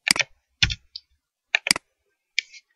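Computer keyboard keys clicking in short bursts while a PHP file is named, with crisp close taps in small clusters and brief silent gaps between them, no voice.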